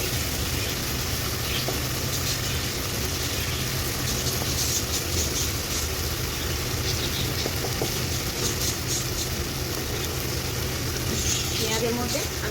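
Onions fry for a mutton curry, a steady close sizzle that runs continuously under someone speaking, with occasional stirring clinks.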